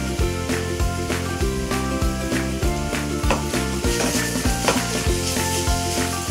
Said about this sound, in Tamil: எண்ணெய் காஞ்சிட்டு இப்போ துருவியை இந்த மாங்காயை சேர்த்துருங்க.